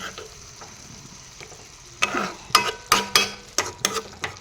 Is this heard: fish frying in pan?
yes